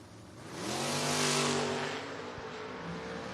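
Chevrolet and Ford Mustang footbrake drag race cars rev loudly at the ready line, with a rising engine roar that peaks and then holds at a strong, steady drone.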